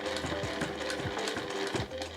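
A sewing machine stitches a two-colour tote bag up to a matching mark, its close, rapid mechanical chatter running steadily with a few brief pauses and changes in speed.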